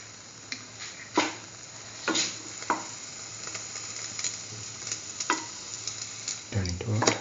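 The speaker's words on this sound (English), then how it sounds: "Let it fry." A chickpea, tomato and chili French toast sandwich fries in a pan, a continuous soft sizzle broken by intermittent scrapes and taps as it is moved around, ending in a louder clatter.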